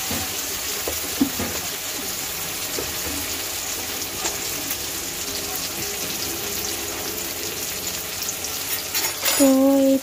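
Slit green chillies frying and being stirred in a hot pan, a steady close sizzle with scattered scraping stirs, ending in a brief louder clatter and tonal squeal.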